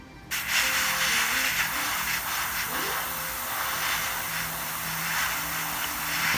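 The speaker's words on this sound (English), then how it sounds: "So we've got the airbrush loaded up." An airbrush sprays MRP Dark Rust paint in a continuous, close airy hiss with a faint mechanical hum beneath, holding steady for several seconds.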